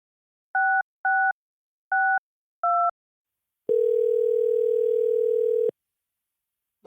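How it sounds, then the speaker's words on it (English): Four short, evenly spaced dual-tone telephone beeps, then a long steady electronic tone lasting about two seconds, loud and clean against silence. "Will somebody please get that phone?"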